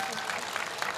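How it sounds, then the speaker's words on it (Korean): An outdoor summer-night concert audience claps after a poetry recitation, one second of dense, even applause. "박수 한번 주십시오"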